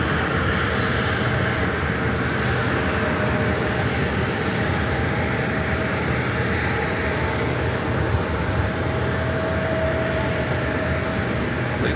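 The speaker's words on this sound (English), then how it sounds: "I believe this is the American, old America West A320, now rolling down the runway 19er" A former America West Airbus A320 in American Airlines service rolls down runway 19 for takeoff, a loud steady jet roar holding even for the whole stretch, with no one talking over it.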